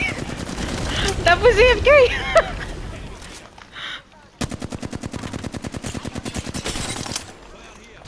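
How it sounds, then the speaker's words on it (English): Rapid automatic gunfire in a shooter video game, with a long rattling burst of evenly spaced shots near the end after an earlier volley, loud and close, while a player talks over it. "They're shooting at me."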